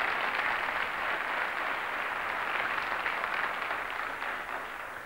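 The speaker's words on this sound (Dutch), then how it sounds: "Een lekker applaus vir haar ook." A studio audience at a 1994 boeremusiek competition gives a dense, even round of applause that holds steady throughout and fades slightly at the end.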